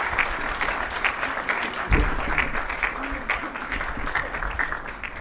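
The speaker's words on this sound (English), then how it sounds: "Can we give him a round of applause?" An audience at an evening awards event applauds guest Peter Greenberg, a dense, sustained clapping that stays level throughout with a brief thump partway in.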